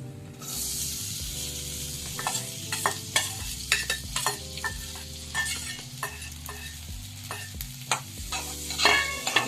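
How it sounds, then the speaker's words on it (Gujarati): Corn kernels sautéing in melted butter in a pan, with a continuous sizzle broken by repeated scraping and stirring strokes, close and moderately loud, over a faint musical background. "હવે આપણે જે મકાઈના દાણા રેડી કરીને રાખ્યા છે એ નાખી દઈશું."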